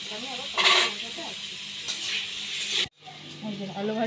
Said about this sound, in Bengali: আলু ভাজা হয়ে গেছে, আলু ভাজা নামাচ্ছি এখন।